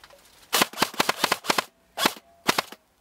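An airsoft gun fires at an outdoor skirmish, giving short rapid bursts of snappy clicking shots in quick clusters separated by brief pauses, close and fairly loud.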